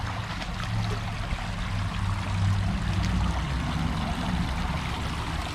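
A creek runs steadily somewhere outdoors, a constant rushing, trickling wash of water that stays even from start to finish, with no talking.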